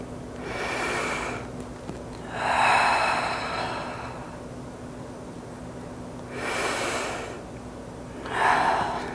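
Deep, slow breaths during a yoga flow: four long breath sounds in an inhale-exhale rhythm, each a few seconds, close and fairly loud with soft pauses between.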